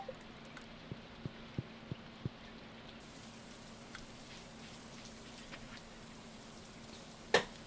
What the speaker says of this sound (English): A green rain has descended upon the valley.